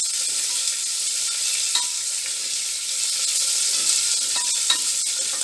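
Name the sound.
onion frying in hot oil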